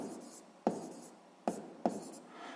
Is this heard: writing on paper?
yes